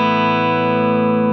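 An electric guitar on a clean setting holds a single sustained chord for just over a second, steady, loud and bright, with no talk.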